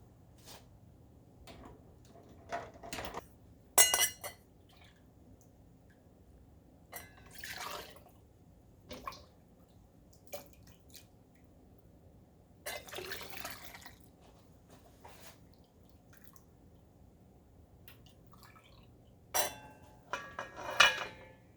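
A glass canning jar is lowered into a water-filled canner while vegetable stock is being canned, with sparse, close clinks, drips and sloshes scattered over a quiet background.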